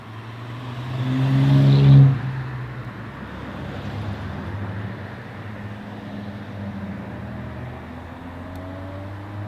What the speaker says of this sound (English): I do apologize about the cross traffic